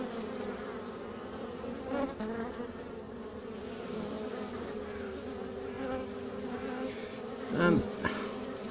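Honeybees hum steadily in and around a hive being cleaned out in late September, with workers fanning, a continuous close buzzing drone broken by a louder bee passing near the end, with no speech.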